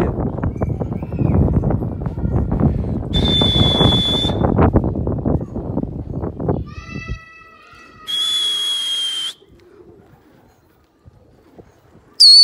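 Pigeons coo, with soft throaty calls mixed among shuffling and fluttering sounds at close range, followed by a few sharp whistle-like tones and quieter stretches.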